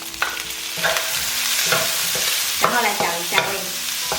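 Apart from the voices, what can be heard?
stir-frying squid and straw mushrooms in a wok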